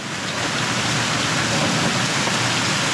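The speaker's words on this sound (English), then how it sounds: "I hope you can hear me over the rain." Steady, loud rain pours down outdoors where fish are being cleaned after a sheepshead trip on the Outer Banks, a dense continuous hiss with no talk over it.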